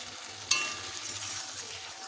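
Ridge gourd fries gently with poppy seed paste, green chilli and pumpkin seeds, a faint, soft sizzle with one brief clink of a utensil near the start.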